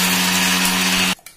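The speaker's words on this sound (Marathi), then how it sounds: "मिक्सर मध्ये बारीक करून घेऊया।" Mixer grinder whirs loudly as it grinds Oreo biscuit pieces into powder, a steady close motor drone that cuts off abruptly near the end.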